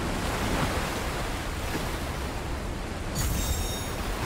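Steady rushing waterfall water in Fortnite, a continuous broadband roar held at an even level throughout, with no talking.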